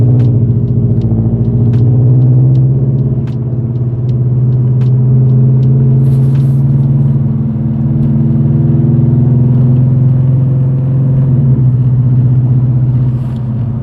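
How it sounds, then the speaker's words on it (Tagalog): A Toyota GT86's boxer engine idles with a deep, steady low rumble, loud and close, swelling slightly in two gentle rises with a faint ticking over the top and no talking. "rumble ng makina ng boxer engine"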